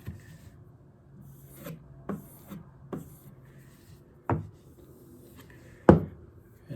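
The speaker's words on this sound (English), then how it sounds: "Just draw it towards you at an angle, otherwise it'll cut the strap." A chisel is drawn along a leather sharpening strap in several separate rubbing strokes, each a short rasping swipe, close and fairly quiet, with the last stroke the loudest.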